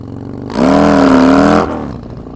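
Harley Dyna motorcycle exhaust blipped once, a deep idle lifting into a loud, rising rev held about a second before dropping back to a rumbling idle, close and alone.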